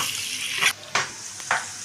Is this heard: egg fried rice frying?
yes